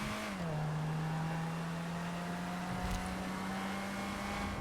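A video-game car engine holds a steady, droning whine that dips slightly in pitch at the start, heard alone and fairly prominent throughout.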